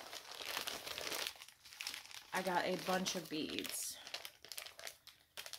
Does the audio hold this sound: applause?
no